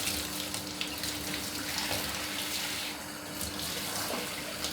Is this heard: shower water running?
yes